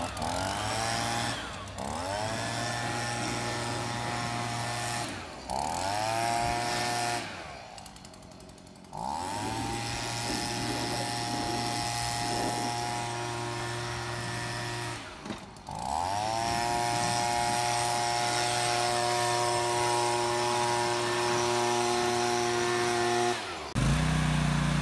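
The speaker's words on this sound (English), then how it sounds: "Just blowing the mower deck and the mower off here to keep it clean." A gas leaf blower clears grass debris off a Toro zero turn mower deck in a cemetery, its engine loud and close, revving up and dropping back in several repeated bursts.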